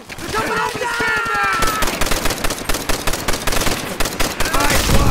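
Rapid machine-gun and rifle fire from the World War II shooter Call of Duty: World at War, loud and sustained in dense bursts, with a brief high whine early and shouted voices mixed in.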